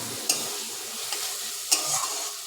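Spice paste of a pomfret and potato curry being stirred and fried in oil, a steady close sizzle broken by a few sharp scrapes of the spoon against the pan.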